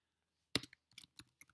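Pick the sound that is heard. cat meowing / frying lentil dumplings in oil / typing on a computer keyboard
typing on a computer keyboard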